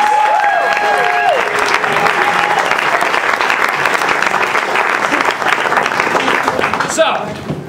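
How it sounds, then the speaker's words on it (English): A theater audience applauds the players on stage in a dense, sustained round of clapping and crowd noise, loud and continuous before fading at the end, with a voice audible briefly at the start. "Let's give another round of applause for all our players."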